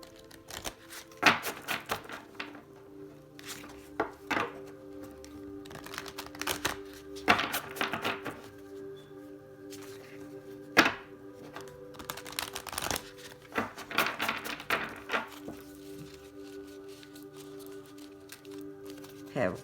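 Oracle cards are shuffled by hand in repeated crisp riffling bursts with short pauses between, close by and fairly quiet.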